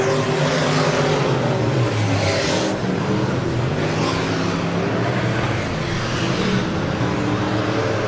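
Super Stock race cars roaring around a dirt track during a heat race, a loud continuous engine drone with rising and falling revs as cars pass, steady and close throughout.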